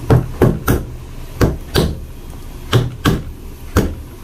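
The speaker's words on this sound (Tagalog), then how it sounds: "Yan, sa kapukpukin ng martilyo." Sharp hammer blows strike in irregular bursts during a box fan shaft repair, about nine hits, close and solid, with short pauses between groups.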